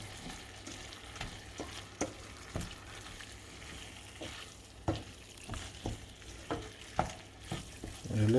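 A spoon stirs vegetable paella in a hot pan, soft scrapes and knocks recurring irregularly over a low steady sizzle of frying, close and fairly quiet.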